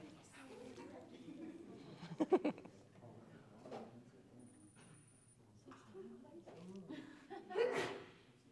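A sharp sneeze bursts out during a lively classroom-style quiz session about college credits, with people talking before and after and a second loud exclamation-like burst later.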